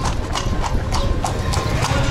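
Horse hooves clip-clopping steadily on pavement in Luxor, Egypt, a quick regular rhythm of sharp strikes up close over constant street noise, with no talk.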